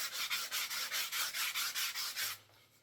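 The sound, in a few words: sanding imperfections off a wooden flute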